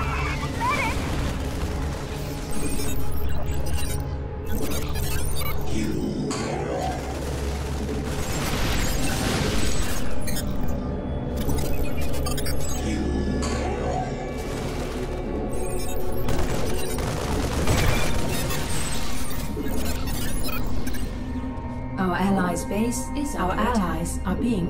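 StarCraft 2 base under attack: repeated explosions and bursts of gunfire rumble through a battle, mixed with game music, while voices speak over the action.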